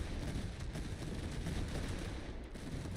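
Musket volleys in the Napoleonic-era strategy game Master of Command, a dense, continuous crackle of gunfire with rumbling low end, steady and loud throughout with no talking.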